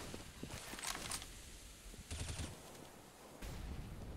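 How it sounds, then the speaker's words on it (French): Rapid bursts of gunfire ring out in a Counter-Strike match, several separate volleys with quieter gaps between them, heard over a steady background of game ambience. "encore un AWP de sortie dans les mains de Pete"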